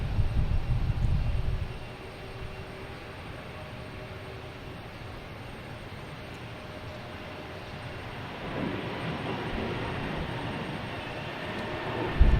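A JetBlue airliner departing Boston Logan for Detroit: a steady, broadband jet roar holds at moderate distance and swells somewhat louder toward the end, with no talk.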